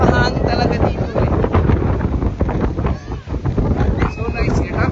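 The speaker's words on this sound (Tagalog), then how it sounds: "Mas mahangin talaga dito eh." Strong wind buffets the microphone at Folly Beach, South Carolina, a loud, gusty roar that rises and dips continuously, with a voice talking under it.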